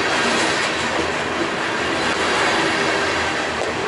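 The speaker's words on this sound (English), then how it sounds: "This is the closest to bring you a train." A heavy BNSF coal freight train rolls past close by at Sedalia, a steady loud broadband roar of wheels and cars with faint metallic squeal, continuous throughout without talk.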